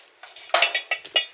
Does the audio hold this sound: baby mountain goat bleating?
no